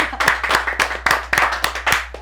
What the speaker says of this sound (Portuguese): palmas pra produção!